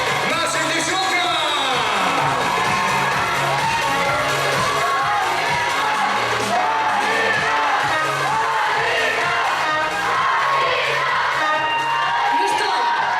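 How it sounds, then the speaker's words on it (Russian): Audience cheering and whooping at a Miss and Mister university pageant during an intellectual contest, a dense, continuous crowd roar with shouts throughout. "давайте все дружненько улыбнемся и громко-громко поаплодируем нашим девчонкам"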